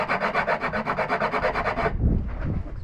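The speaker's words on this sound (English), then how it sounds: "Give that a little sand." Hand sanding of a wooden boat scarf joint: quick, even back-and-forth rasping strokes close by for about two seconds, then the rubbing stops, with no voices.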